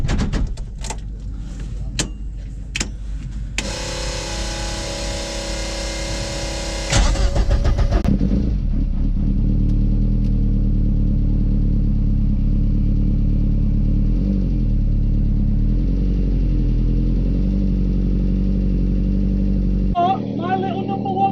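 Twin-engine Vauxhall Corsa starts up and idles with a steady low drone, then pulls away slowly with a deep rumbling hum, a few clicks and knocks early on.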